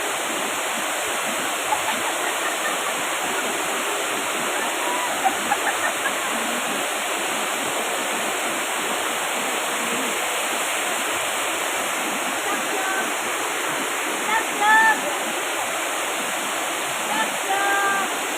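Chamadka waterfall pours in a steady, full roar of falling water, a dense broadband rush that holds constant throughout, with faint birdsong chirps briefly audible above it.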